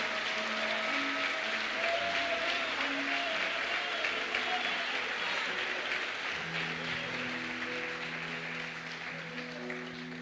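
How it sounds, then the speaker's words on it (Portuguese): A congregation applauds during a Wednesday evening church service, a sustained wash of clapping with crowd murmur, fairly even throughout and easing slightly toward the end, while low sustained keyboard or organ notes play underneath. "Pode aplaudir o Senhor então"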